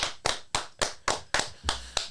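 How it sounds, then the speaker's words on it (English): Applause for a guest on a cannabis-justice podcast: a small group clapping in eight distinct, evenly spaced bursts, close and fairly loud, with no talk over it. "One more round of applause for the queen"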